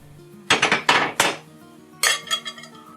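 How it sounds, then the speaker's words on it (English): A metal crepe pan being turned and tilted to spread batter across its bottom gives two bursts of sharp, close metallic clanks and rattles, with a short quiet gap between them. "Turn the pan quickly to spread the batter evenly on the bottom of the pan."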